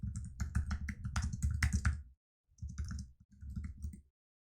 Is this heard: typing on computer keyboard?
yes